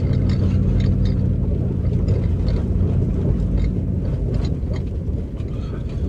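A Jeep Grand Cherokee ZJ engine pulls at open throttle while cruising on gravel, a loud, steady low rumble with tyre and wind noise running throughout, fading slightly near the end.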